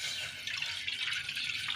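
About one tumbler of water is poured into a pan on a lit gas stove for a tea decoction, giving a soft, continuous splashing trickle that stays fairly quiet with no talking.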